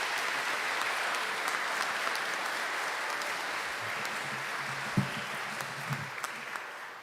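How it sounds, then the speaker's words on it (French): A church congregation applauds the presiding bishop after a Mass, giving steady, even clapping that fills the whole stretch with a few louder claps near the end. "je vous invite d'applaudir Monseigneur aussi particulièrement"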